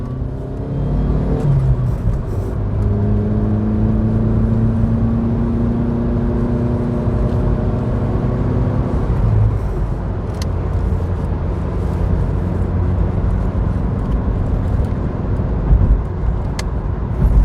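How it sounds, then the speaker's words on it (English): A Citroen Berlingo accelerating on a road, its engine droning steadily and rising in pitch through the gears, close and continuous with road rumble underneath and no talk. "you get to hear the car accelerate again"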